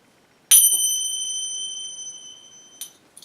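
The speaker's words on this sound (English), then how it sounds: "these are both from a high quality finger cymbal maker, but the shape of them changes the sound." Arabesque finger cymbals made of German silver, struck once for a bright, close, ringing chime that sustains for about two seconds before a couple of quick lighter taps.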